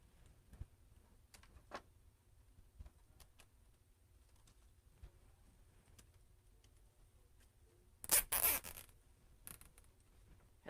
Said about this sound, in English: this one I'm going to go ahead and put a zip tie here